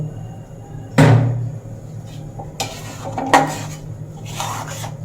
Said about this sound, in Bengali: অনব্রত এইভাবে নাড়াচাড়া করতে হবে নাহলে পড়াতে লেগে যাবে